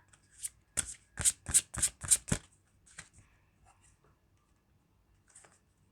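Romance Angels oracle cards being shuffled by hand, a quick run of about six crisp riffling snaps followed by a few softer taps, close and clear with no talking.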